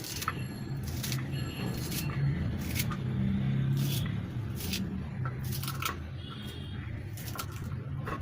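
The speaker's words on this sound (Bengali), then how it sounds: "ধনে পাতাটা কেটে নিচ্ছি।" A knife chops fresh coriander leaves on a board in a quiet home kitchen, giving soft, irregular close-up taps and clicks over faint background hum.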